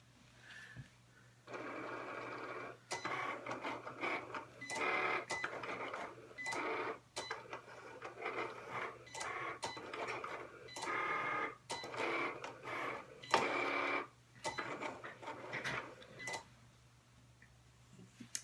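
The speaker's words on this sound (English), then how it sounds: "So I'm just telling the machine to cut this one." A Cricut Explore Air cutting machine slices a card with fast rhythmic ticking and whirring bursts of blade and carriage motion, steady and close for about fifteen seconds before stopping.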